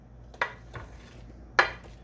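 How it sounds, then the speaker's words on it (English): Apples are stirred in a frying pan: a spoon scrapes and clinks against the pan in three short, soft strokes, with a faint low background between them. "every so often we'll come back and stir it"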